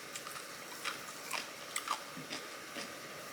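Someone bites and chews kimchi close to the mic in a quiet mukbang setting, with about seven soft, crisp crunches spaced irregularly.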